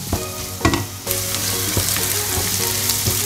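Okra and onions frying in a pan for a vendaka tomato masala, steady close sizzling with a few sharp stirring clatters and scrapes, no talk.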